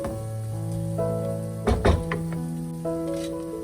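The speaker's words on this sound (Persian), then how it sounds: "الان تکه های مرغمون رو به پیاز اضافه میکنیم" Chicken pieces sizzle steadily in a pan with onion and tomato paste for an eggplant and chicken stew, with a few louder stirring scrapes in the middle and a constant tonal hum underneath.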